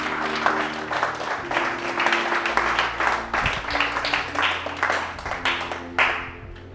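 A church congregation applauds for several seconds, a loud, dense wash of clapping from many hands that swells and ebbs, with a faint voice mixed in underneath.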